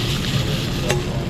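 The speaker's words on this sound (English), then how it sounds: "Get these seared up real good." Chorizo sears in a hot pan with a dense, steady sizzle and crackle, loud and close, with one brief clink partway through.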